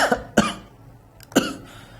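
Three harsh coughs in quick, uneven succession, close and fairly loud, with a brief pause before the last one.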